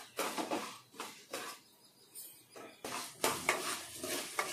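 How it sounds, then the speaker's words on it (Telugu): Lentils dry-roasting in a pan while making curry leaf powder, with a spoon scraping and stirring in repeated bursts of rustling and clinking, close and fairly quiet, with short pauses between strokes. "పప్పు కూడా వేగుతున్నాయండి."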